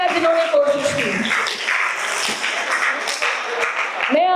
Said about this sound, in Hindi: जोरदार तालियां जिन्होंने कोशिश की